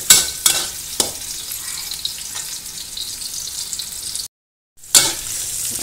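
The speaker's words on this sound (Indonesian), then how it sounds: "Kita panaskan minyak sampai panas. Masukkan bawang merah, aduk sampai wangi." Shallots sizzle and crackle in hot oil while being stirred, a steady close frying hiss with scattered scraping pops, a brief dropout near the end before the sizzle resumes.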